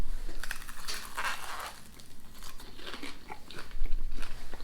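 Crunchy chewing and biting on a snack spread with Marmite peanut butter, close and continuous, with crisp crackly bursts and no talking.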